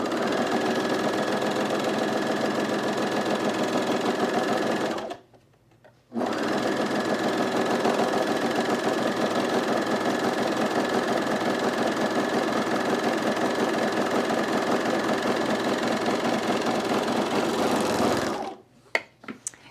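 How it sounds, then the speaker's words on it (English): An overlock serger stitches the long curved bottom edge of men's cargo shorts, a steady fast mechanical whir running for about five seconds, pausing briefly, then running continuously again for roughly twelve seconds before stopping. "I'm serging the long bottom curved edge here."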